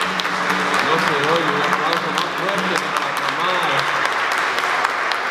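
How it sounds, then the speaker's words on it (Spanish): Loud, sustained applause for the mothers during a Spanish-language Mass, a congregation clapping steadily throughout while a voice talks over the clapping. "Un aplauso para las mamás."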